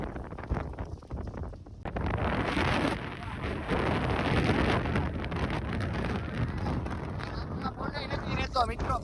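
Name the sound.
strong wind storm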